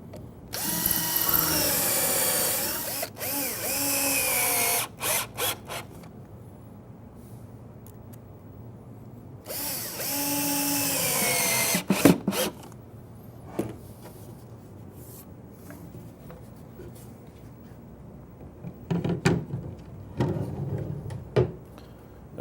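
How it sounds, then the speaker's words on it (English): Power drill pre-drilling screw holes in the corners of a wooden cabinet face frame, two loud whirring bursts several seconds apart with quieter clicks and handling noises between, close up and without talk. "Now we're going to pre-drill for screws in both corners"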